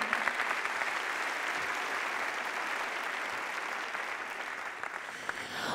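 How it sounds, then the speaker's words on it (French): An audience at a business evening event applauds three speakers and a 2014 laureate, dense even clapping filling the room throughout at moderate, steady loudness. "On peut les applaudir tous les trois et notre lauréat 2014"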